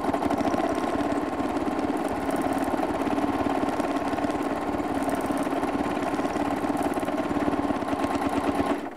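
A sewing machine doing free-motion quilting, stitching across previously sewn lines, whirs in a steady, continuous mechanical drone with fast rhythmic needle chatter, close and unbroken throughout.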